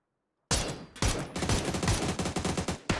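A decoy grenade in the video game PUBG gives off bursts of rapid gunfire, loud and close, with short clusters of shots following one another.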